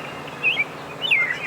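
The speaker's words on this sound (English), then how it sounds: "There's a robin that just flew in here." A robin gives two bright, high chirps in quick succession, fairly close and clear over a soft outdoor background hush, with no talking.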